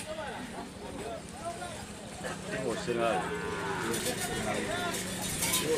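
Young cattle low repeatedly at a bull-racing (karapan sapi) practice field in Asemanis, Pamekasan, with several drawn-out moos over steady outdoor background noise while people talk nearby.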